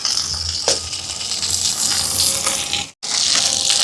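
Curry leaves, shallots and green chilli sizzling in hot oil for a Jaffna devilled prawn, a loud, dense, watery hiss close up with a brief crackle and one short break, no talk.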